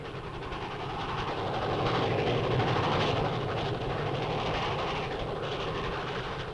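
A train rumbles steadily past nearby, its loud, continuous roar mixed with the rhythmic clatter of wheels on the rails.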